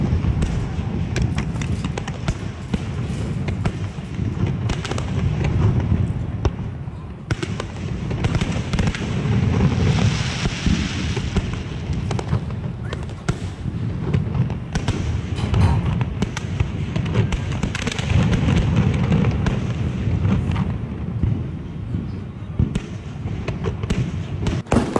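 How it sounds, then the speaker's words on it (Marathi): Fireworks crackling and bursting during the Deepotsav celebration at Shivaji Park in Dadar, a dense, continuous stream of pops and rumbling booms heard from a crowded open ground. "बघू शकता तुम्ही फटाके किती सुंदर वाटतात फोडतायत ते"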